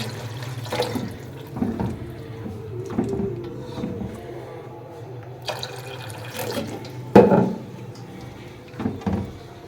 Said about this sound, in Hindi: अब हम इसमें पानी डालेंगे और गलने के लिए रखते हैं।